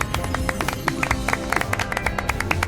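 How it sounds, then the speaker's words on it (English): A dense burst of applause from a crowd, many hands clapping at once in a steady, fairly loud wash with no pauses. "Lobster, those noises are applause."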